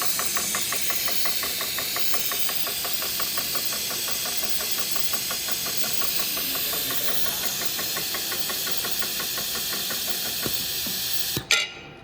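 An Amatrol tabletop mechatronics conveyor belt runs with a steady rapid mechanical ticking over a constant motor hiss, loud and close, ending in a brief clunk, no talking.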